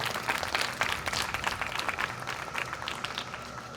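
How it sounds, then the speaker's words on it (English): Audience at a fifth-grade ceremony applauds retiring teachers, a fairly quiet, distant patter of many hands clapping continuously throughout. "How about a round of applause for all our retirements?"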